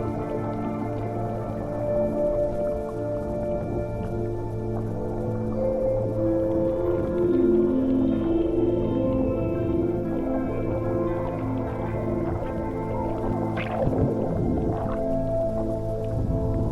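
Hundreds of dolphins swim underwater beneath snorkelers off northern Bali, giving steady whistle-like tones and squeaky calls over a constant underwater rumble, with a sharper burst of clicks near the end and no talking.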